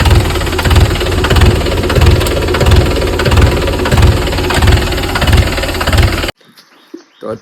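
A tractor engine runs close and loud, chugging in a steady, heavy rhythm on a summer farm, then cuts off abruptly to near silence with a few faint outdoor sounds.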